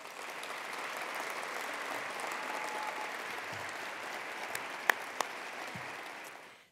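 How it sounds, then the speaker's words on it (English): An audience at a college state-of-the-address event gives a steady round of applause, distant and even throughout, with a couple of sharper claps standing out near the end. "Come on and give her a round of applause."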